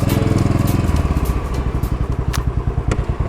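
A 2023 Royal Enfield Bullet 500 motorcycle being ridden, its single-cylinder engine thumping loud and close in a steady, rapid pulsing beat with some clattery mechanical noise on top.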